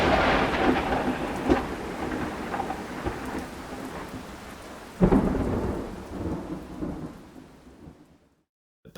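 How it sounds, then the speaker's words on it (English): Steady rain pours with rolling thunder, then a sharp, loud thunderclap bursts mid-storm and rumbles away before the sound cuts to silence. "Think of a distant storm versus a nearby clap of thunder with lightning."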